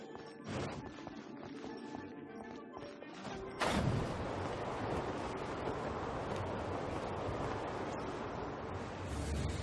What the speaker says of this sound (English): Let's ride this wind current, shall we?